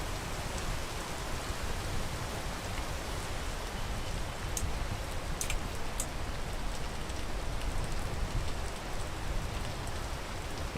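Steady rain falls in the climbing video game Peak, a continuous, even hiss of drops throughout with a few faint high ticks and no voices.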